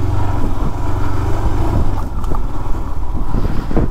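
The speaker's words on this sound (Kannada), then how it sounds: "ಆಫ್ ರೋಡಿಗೆ ಹೆಂಗೆ ಮಾಡ್ಬೋದು ಅಂತ ಒಂದು ಕ್ಲಿಪ್ ನೋಡಿ ಇವಾಗ ಹೆಂಗೆ ಹೋಗುತ್ತೆ ಅಂತ ಗಾಡಿ" An adventure motorcycle ridden off-road runs loud and steady, its engine drone mixed with heavy wind buffeting on the microphone throughout.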